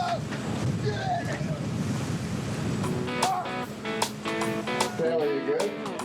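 Ocean waves and steady wind roar around an offshore film set out at sea, a constant close wash of water and gusting air with a few faint voices underneath.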